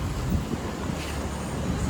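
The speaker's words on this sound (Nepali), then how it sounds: "यता चाहिँ झरना छ" A waterfall beside a dam gives a continuous broadband roar of falling water, close and steady for the full moment, with no voices.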